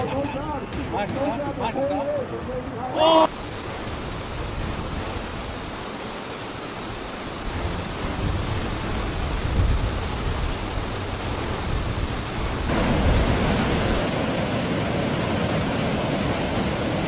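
Giant ocean waves at Nazaré make a loud, continuous roaring wash of surf that swells and rolls on. A voice speaks briefly at the start.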